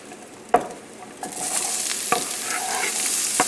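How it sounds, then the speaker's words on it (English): Onion dropped into a deglazed pan after pork chops, the sizzle swelling from quiet to a steady hiss with a few sharp spatula knocks along the way. "Now we're going to add the onion."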